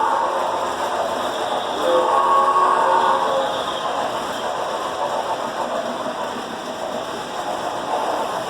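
Model trains running on a layout at the Strasburg museum, a steady rolling rumble with faint whistle-like tones, continuous and fairly close.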